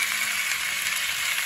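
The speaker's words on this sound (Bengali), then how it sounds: "আলুটা আর একটু ভাজা হোক।" Potatoes fry in a pan with a steady, close, crackling sizzle and no voices.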